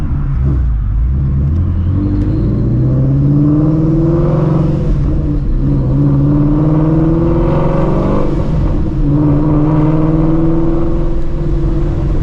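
A Shelby GT350 pulls hard through third gear, a loud, close engine roar whose pitch climbs steadily in long sweeps, dipping briefly at shifts before rising again under heavy, continuous rumble.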